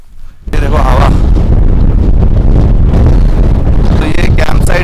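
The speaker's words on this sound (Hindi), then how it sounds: "लेकिन बहुत तेज हवा चल रहा है इसमें." Strong, cold wind roars and buffets the microphone at a campsite on a stormy day, a loud, continuous rumbling gust after a brief quiet start.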